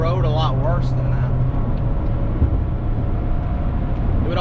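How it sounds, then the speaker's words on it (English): Toyota truck with a Toytec Aluma suspension and no sway bar cruising on a highway and crossing a bridge expansion joint, a steady broadband road and engine rumble filling the cabin, with a voice speaking over the first moments. "Here's a bridge expansion joint."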